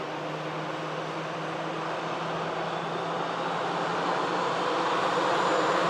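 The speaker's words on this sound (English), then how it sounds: "the EasyJet arrives in from Palma" An EasyJet airliner inbound from Palma arrives at Manchester Airport, its broad jet roar and whine building gradually and steadily louder from a distance, with no other sounds over it.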